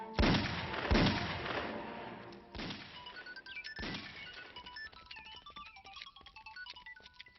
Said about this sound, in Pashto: لږ څه مخکې دلته د ډزو غږونه راغلل